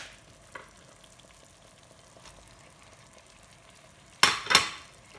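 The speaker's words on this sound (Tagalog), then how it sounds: "ilalagay ko na rin yung ating ampalaya." Bitter gourd with beef and oyster sauce stir-frying in a pan: a faint, steady background sizzle, then two short, loud bursts of hissing and scraping near the end as the gourd is added and stirred.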